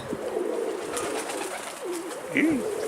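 Soft pigeon coos rise briefly over a steady background murmur, with a clearer cooing call near the end.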